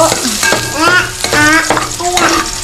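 Onion and garlic stir-frying together in a pan for a sauce, with steady sizzling and repeated stirring scrapes, close and fairly loud, alone with no talk.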